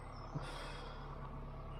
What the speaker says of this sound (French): je vais t'embêter par le bruit du tracteur